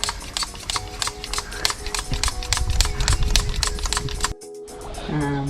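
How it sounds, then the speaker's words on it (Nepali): Rapid, steady strokes of an air pump inflating a bicycle tyre during a cycle repair in Japan, roughly a dozen rhythmic hissing pushes close by before stopping abruptly. "हावा चाहिँ तपाईँले यसरी हाल्नु सक्नुहुन्छ।"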